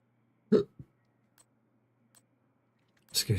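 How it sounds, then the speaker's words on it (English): A single sharp, close hiccup comes from a person gaming, followed by a softer catch, a few faint clicks and a short, louder burst of breath at the end. "Excuse me, hiccup."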